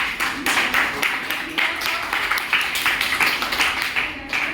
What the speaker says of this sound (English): Clap for Rima, she has completed.